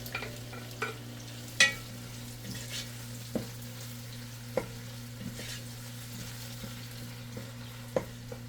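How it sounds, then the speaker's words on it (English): Sliced tomatoes hit a hot pan while making spaghetti sauce, giving a soft, low sizzle with scattered sharp clicks and scrapes of stirring over a constant low hum, no speech. "Now I am going to add my tomatoes, my sliced tomatoes."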